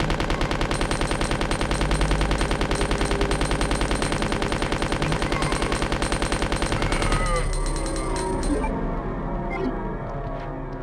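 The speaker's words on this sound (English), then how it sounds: "Watch how good this gun is." A video game gun fires in a long rapid automatic burst, dense evenly spaced shots for about seven seconds before cutting off into a fading tail and quieter game ambience.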